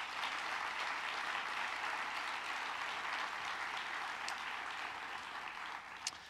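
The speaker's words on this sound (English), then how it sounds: "Please give them a round of applause." An audience at a university state-of-the-university address applauds in a large hall, steady even clapping heard at moderate distance and slowly tapering off.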